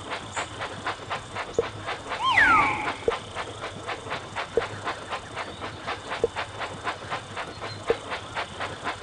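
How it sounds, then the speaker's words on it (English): A toy train set running in a Thomas video game, steady rhythmic clicking of wheels over track with a soft hiss and a brief whistle-like tone partway through, fairly faint, no talking. "What a fantastic train set!"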